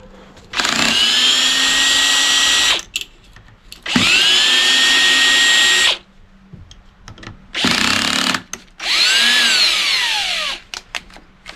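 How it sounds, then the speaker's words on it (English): A power drill whines loudly in four sustained bursts, each lasting one to two seconds, while working a brass fitting off a water heater controller, with brief pauses between runs and pitch sagging at the end of the last burst. "The drill died."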